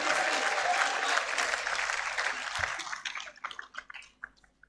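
Audience at a university congregation ceremony in a conference centre applauding warmly, the clapping loud at first, then thinning into scattered individual claps as it fades out.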